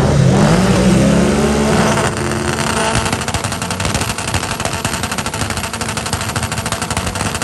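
Two Honda Civics drag race, one all-wheel drive and one rear-wheel drive, at a PCSA eliminations event: engines roar and rev loudly through the launch, then a rapid staccato of crackling pops and rising engine drone fills the rest, alone without talk.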